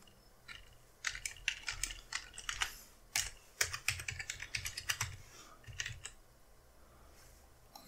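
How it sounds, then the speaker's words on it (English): Fingers typing a password on a computer keyboard, a quick, close run of light key clicks in uneven clusters against a quiet background, ending with a sharper final press. "put our password in"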